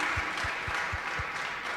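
A short burst of steady applause from a gala audience in Moldova, many hands clapping together at moderate loudness.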